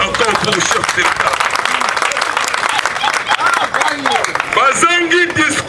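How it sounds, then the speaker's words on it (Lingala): A large crowd at a Congolese political gathering applauds the head of state, loud sustained clapping with cheers and shouting, while people speak and call out over it. "acclamez encore pour le chef de l'État"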